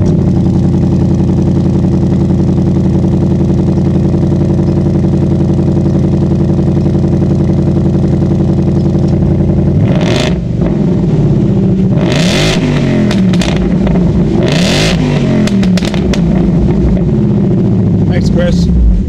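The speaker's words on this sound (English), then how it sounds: "what a supercharged Mustang with the factory exhaust is going to sound like" A supercharged 2018 Ford Mustang with factory active exhaust in sport mode idles with a loud steady rumble, then blips its throttle in several sharp revs, close and loud.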